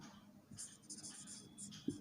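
A pen scratches across paper while the Pythagorean formula is written out, with short faint strokes in bursts and a soft tap near the end, all quiet and close.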